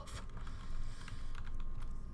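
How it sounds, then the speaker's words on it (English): Close keyboard typing and mouse clicks from a PC Skyrim gaming session, rapid irregular taps and clicks in quick bursts, fairly quiet and with no talking. "the clicking apocalypse, because you can hear every click!"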